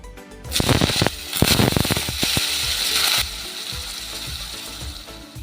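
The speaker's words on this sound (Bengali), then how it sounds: "অল্প ঘি দিয়ে কিছু আলু এইভাবে কেটে রেখেছি ডুমো ডুমো করে, এই আলুটা ভেজে নেব" Diced potatoes fry in a little ghee with a loud, crackling sizzle full of sharp pops and clicks, then settle into a steadier hiss.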